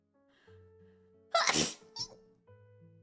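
A single sharp human sneeze bursts out after a quiet, faintly humming room, followed by a brief softer exhale, close and loud against the calm background.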